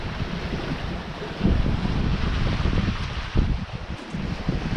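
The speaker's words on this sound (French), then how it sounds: "Ça souffle bien, on avance bien." Steady wind and wash of waves against a sailboat's hull running well under full mainsail, broad off the wind at sea off Italy, a continuous rushing roar with louder surges, no voices.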